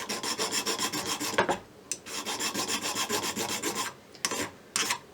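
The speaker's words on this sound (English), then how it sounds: "So what I've decided to do is just file this whole surface back a little bit" A hand file rasps over the metal surface of a nose cap being fitted on a Kibler Colonial flintlock kit: close, dry, rhythmic back-and-forth strokes in quick bursts with short pauses, and no talking.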